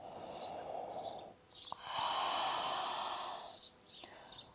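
Audible yoga exhales in Ujjayi-style breathing, close and breathy, with a soft long exhale followed by a second, longer and louder one, all with no speech.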